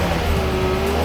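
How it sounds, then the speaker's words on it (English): A Mercedes 190E Evo II with its Cosworth-developed four-cylinder idles steadily, a loud, close, smooth engine hum with a constant low drone and no speech. "Listen to that Cosworth engine run."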